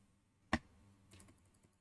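A single sharp computer mouse click sounds close up in dental aligner setup software, followed by a couple of faint softer clicks in a quiet room.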